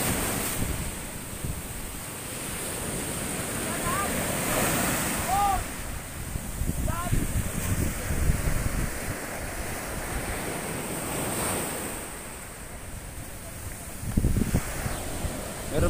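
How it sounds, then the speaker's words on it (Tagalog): Strong sea waves driven by lingering typhoon winds batter the shore of Sibay Island, a steady loud roar of surf and gusting wind noise across the whole stretch with no pause. "napakalayo na yung bagyo pero malakas pa rin yung alon dito"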